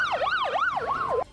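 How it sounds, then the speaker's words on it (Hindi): An ambulance siren on the streets of Peshawar, a loud, steady wail rising and falling in pitch in a quick, even cycle, heard alone with no voices. "पेशावर की सड़कों पर सायरन बजाती एम्बुलेंस दौड़ने लगी"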